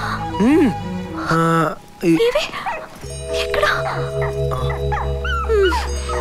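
A dog whimpers and whines in high, wavering cries, close by, while people talk over and between the sounds in a Telugu film comedy scene.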